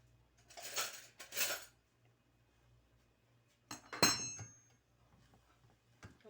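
Chinese rice with egg is mixed gently in a pan, giving a few short bursts of a utensil clinking and scraping against the metal, separated by quiet pauses.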